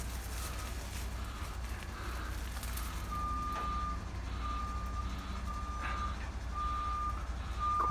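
A Franna crane drives out of a boatyard, its reversing alarm beeping repeatedly in a steady pattern over a low engine rumble, moderately distant.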